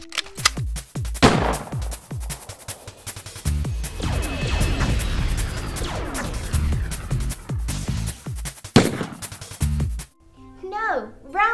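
Rapid bursts of gunfire and crashing blasts rattle loudly, like staged action effects, with a voice talking between and over them.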